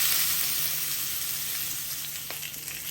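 Sliced onions frying in a pan for a grilled vegetable salad, giving a steady, close, hissing sizzle throughout with a few faint stirring clicks near the end.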